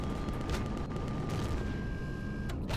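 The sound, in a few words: gunfire in the video game Empyrion Reforged Eden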